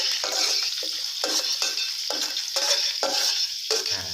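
Garlic fries in oil, sizzling and crackling loudly in a pan while a utensil scrapes and stirs in regular strokes, close up, with no talking.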